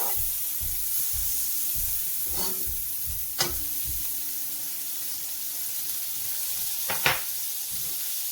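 Butter melts in a pan for a chicken steamed roast, giving a steady loud sizzle throughout with a few brief clinks and scrapes of utensils, no speech.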